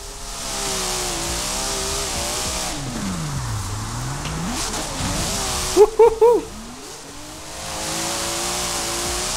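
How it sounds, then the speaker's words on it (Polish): A Nissan Skyline R34 in Forza Horizon 4 revs and drifts, its engine note rising and falling steadily for several seconds, with a short burst of squealing tyres partway through before the drone carries on alone. "O, standardowy silnik się kurde rozkręcił."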